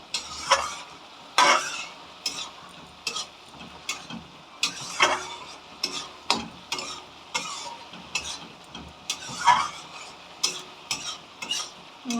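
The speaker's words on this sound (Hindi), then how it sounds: "जैसे मुझे अभी ज़रूरत है तो मैंने फ्लेम तेज़ कर लिया है, अगर आप देख पा रहे हैं तो। और ये टमाटर को बस भूनते रहना है।" Tomatoes fry in a pan over a high flame, sizzling steadily while a spoon scrapes and stirs in repeated, rhythmic strokes, close up with no talking.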